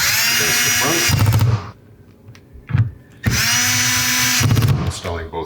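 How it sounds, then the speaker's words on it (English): A power drill drives screws into a mounting bracket while a Fulgor Milano fridge and freezer column is being installed, two loud, close whirring bursts separated by a brief quiet pause with a faint click. "Installing both screws."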